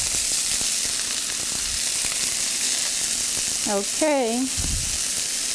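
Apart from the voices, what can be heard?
chicken browning in a frying pan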